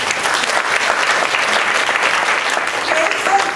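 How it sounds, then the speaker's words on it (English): Steady, dense applause from a crowd, continuous and fairly loud throughout with no pauses. "give her an applause"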